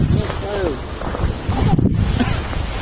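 Strong wind buffets the microphone in low rumbling gusts while people talk outdoors in snowy weather.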